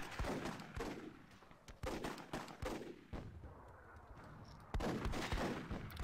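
Rapid bursts of gunfire in a team-based video game battle, sharp repeated shots in clusters with brief pauses, loud and close with no talking.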